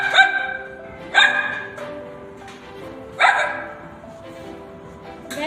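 A girl imitates a dog barking in a school mimicry act, producing three sharp, loud barks about a second or two apart with quieter yips between them.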